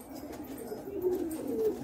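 Domestic pigeons coo softly nearby, low throaty rolling calls repeating over faint background rustle, with no talk.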